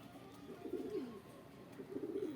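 An old pigeon outdoors gives soft, low cooing in two rolling phrases, fairly close but quiet, with light background hiss and no talk.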